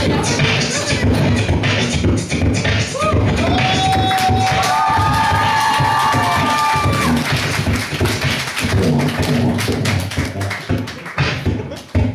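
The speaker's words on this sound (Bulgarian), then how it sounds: "айде аплодисменти за нашия участник" A talent show audience claps and cheers for a beatbox contestant, with lively uneven clapping, shouts and whistles rising over a noisy crowd. The noise stays strong for several seconds and then thins into scattered claps.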